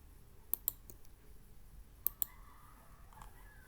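A computer mouse clicks quietly at a desk: two close pairs of crisp, light clicks with a few fainter ticks between them, over a low, near-silent background with no talking.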